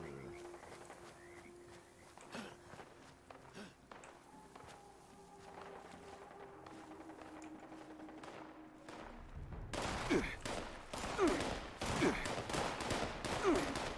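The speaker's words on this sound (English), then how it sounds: "That is a lot of gunfire." Scattered gunfire in Fallout 76, faint distant pops at first, then a denser, louder barrage of shots crackling in the second half, with a quiet voice heard underneath.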